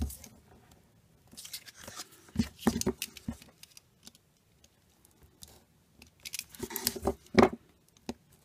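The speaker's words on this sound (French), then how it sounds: "c'est censé être des ciseaux en téflon" Teflon scissors cutting paper for a small Halloween witch card: quiet, intermittent snips and crisp rustles in short bursts separated by near silence, close to the listener.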